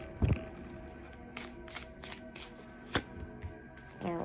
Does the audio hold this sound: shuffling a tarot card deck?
yes